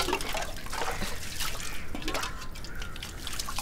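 Water splashes and drips as it is poured over a person's back during a bath, with a steady wet trickle and patter running through the whole stretch at moderate loudness and no talk.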